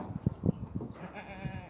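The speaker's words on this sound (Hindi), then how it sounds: "ये बकरी है मेरे पास प्योर गुलाबी।" A goat at a livestock market gives a few short, close bleats in quick succession, followed by quieter murmuring background noise.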